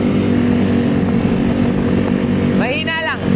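A motorcycle engine fitted with a 59 big valve set runs loud and close, holding a rough steady idle before a quick rising rev near the end.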